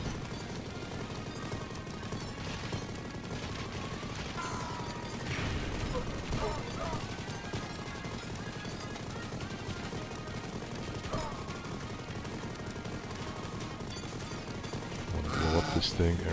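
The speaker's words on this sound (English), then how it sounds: "I have missiles coming after me." Missiles and run-and-gun gunfire in the video game Mighty Goose, dense clattering bursts and impacts layered over busy game music, with someone talking over the action.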